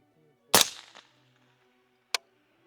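A Frontier 77-grain rifle round fired from a 20-inch barrel strikes a steel target: one sharp loud crack with a short ringing decay, then a second brief, fainter impact about a second and a half later.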